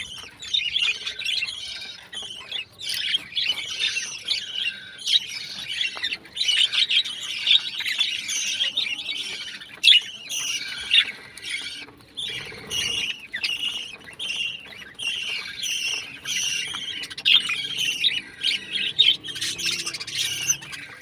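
A dense, continuous chorus of many small colony-kept birds squawking and chirping nearby, shrill and busy with no pauses.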